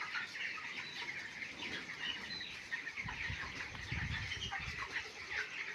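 Chickens in a poultry farm, a dense background chorus of clucks and chirps from many birds at a distance, with some low rustling and thumps near the end.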